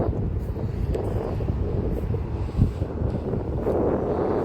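Sea breeze blows at the seashore, buffeting the microphone with a continuous low rumbling roar that swells briefly midway.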